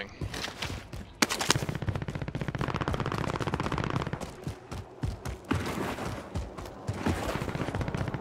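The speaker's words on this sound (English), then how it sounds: "Oh, I'm taking rounds from both sides now." Sustained automatic gunfire in Call of Duty multiplayer, rapid machine-gun bursts and overlapping shots from several weapons rattling nearly nonstop at close and mid range, with brief gaps between volleys.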